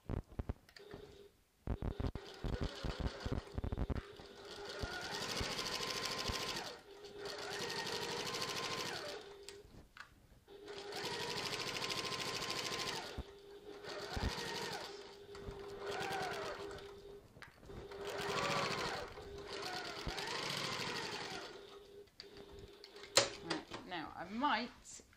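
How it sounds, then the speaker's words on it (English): A sewing machine runs along the bottom edge of a tote bag in several steady whirring runs with brief stops between them, fairly close, with clicks and handling noises in the gaps. "we're just going to sew along that bottom edge using our regular stitch length and our regular seam allowance of 3/8 of an inch"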